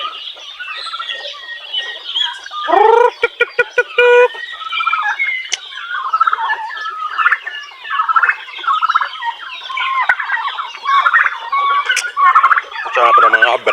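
A flock of young fowl on a farm chirping and clucking busily while being fed, many overlapping calls, close and loud, with a voice speaking briefly among them.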